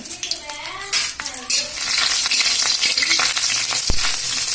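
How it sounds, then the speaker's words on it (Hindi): Potato and pea biriya fritters dropped into hot oil in a wok, a loud steady sizzle with scraping stirs, utensil clinks and a sharp knock near the end; no talk. "अब ई सारा बिरिया हम ई तेल में डाल दी छी।"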